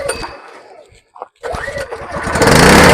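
A small engine on an Ace Up AI 4500 open-frame inverter generator sputters, stalls briefly, then catches and revs up into a loud, steady run in eco mode, close by.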